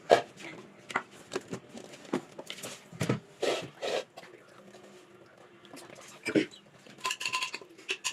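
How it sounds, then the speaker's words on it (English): A spoon clinks and scrapes around a bowl while pancake batter is mixed, coming in irregular bursts of tapping and rattling with quiet pauses between, close by, with occasional soft talk. "And now we are going to mix."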